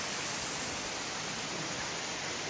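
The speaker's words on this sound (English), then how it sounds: "So we've just caught sight of the waterfall now." Robin Falls waterfall pours as a steady, dense broadband rush, a continuous hiss-like roar filling the scene with no breaks or other sounds.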